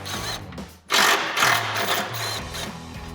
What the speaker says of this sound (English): Now we'll get these out with our T40 Torx bit.